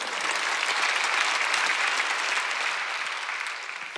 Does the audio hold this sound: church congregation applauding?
yes